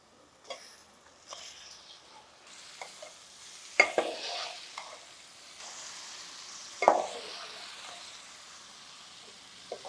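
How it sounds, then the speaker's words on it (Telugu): Chicken seasoned with garam masala and turmeric frying in a pan for a brinjal chicken curry, giving a soft steady sizzle with occasional sharper stirring scrapes and clinks, close and moderately quiet, with no talking. "ఇప్పుడు గరం మసాలా పసుపు చికెన్ వేసేస్తున్నాను అందులో"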